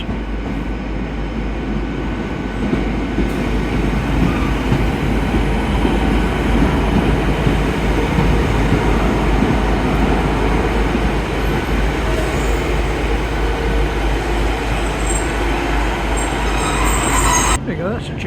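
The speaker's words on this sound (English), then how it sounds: "My train's coming on this side." A train rumbles and rolls into a station with a loud, steady roar of wheels on track. Faint background voices mix under the noise.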